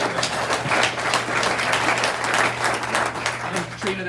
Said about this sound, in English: so round of applause for